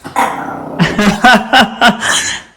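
A dog barks in a short run of about five sharp, fairly close barks, with no other sound around them.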